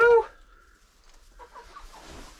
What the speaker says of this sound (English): Stepping on the birds.